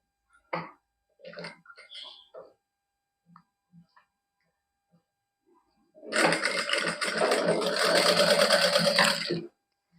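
A sewing machine stitches lace onto fabric in one steady, fast run of needle clatter lasting about three seconds. Before it come scattered soft taps and handling noises, with brief low talk.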